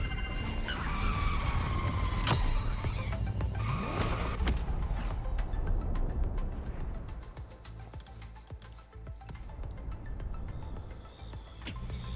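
A Ferrari F40 or F50 in The Crew: Motorfest, its engine roaring and revving through shifts with tire squeal, loud at first and then easing to a lower drone.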